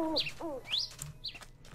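Birds in Minecraft Crazycraft give several short chirps and rising tweets, a few separated calls over faint background hum, fairly close.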